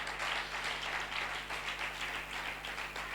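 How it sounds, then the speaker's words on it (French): A church congregation at a Sunday service applauds steadily for about three seconds, a soft, even wash of clapping heard from a little distance with no voices over it. "Je prie que vous l'acclamez très fort."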